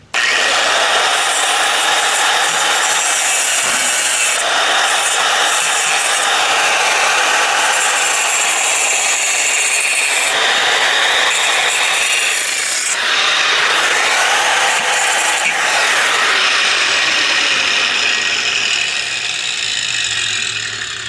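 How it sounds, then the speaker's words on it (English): A small handheld grinder cuts material for a chicken coop build, a loud, continuous close-up whine and grinding rasp that shifts in pitch with load and barely pauses. "I'm just using this handy dandy little tool, this little grinder, and I use it to cut down"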